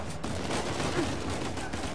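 Rapid pistol gunfire in Uncharted 4, a dense continuous burst of shots with a steady level under game noise.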